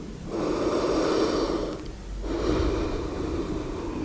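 Two deep, audible breaths in a yoga posture, each a long rushing airflow close to the microphone, separated by a brief pause.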